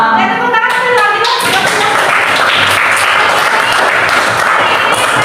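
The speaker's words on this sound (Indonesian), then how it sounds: "Oke, tepuk tangan sekali lagi" Classroom of students applauding, loud close clapping that rises quickly after a brief voice at the start and continues as a dense, even patter to the end.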